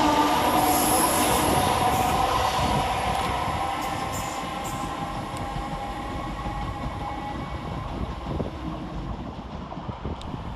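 Greater Anglia class 322 and 321 electric trains run through Bethnal Green station together, a steady rumble and rattle of wheels with high squealing, loudest at the start and easing slightly as the carriages roll past, no talk.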